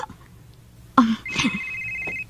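A telephone rings for an incoming call in a radio drama, a bright electronic ring that starts sharply partway through and holds over a low background hum, with no talking.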